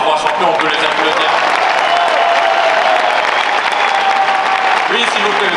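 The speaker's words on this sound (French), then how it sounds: "On peut les applaudir encore, hein. Les 3 champions, on peut les applaudir." Sustained applause from a Paris UFC fan-event audience for three champions, a dense steady wash of clapping with some crowd noise, loud and continuous throughout.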